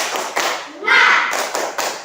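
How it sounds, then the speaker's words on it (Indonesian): Pupils in a classroom perform the 'tepuk semangat' rhythmic clapping chant led by a classmate, with sharp patterned claps and taps interspersed with a brief shouted chant from the group. "Tepuk semangat."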